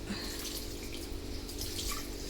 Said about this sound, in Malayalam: കുറച്ചും കൂടി വെള്ളം ഒഴിച്ചു കൊടുക്കുക